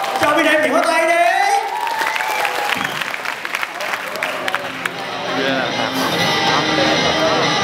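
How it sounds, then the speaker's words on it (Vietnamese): An audience at a rap festival applauds and cheers over amplified sound, with voices rising above dense clapping that continues under a steady mix. "Cho V-Ray một tiếng vỗ tay đi."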